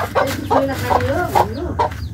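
Chickens and chicks cluck loudly close by, giving a run of repeated short, throaty calls one after another for a couple of seconds.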